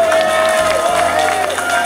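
An audience applauds at a Brasov TV stage show, a dense, loud wash of clapping and crowd noise with a sustained musical tone running underneath.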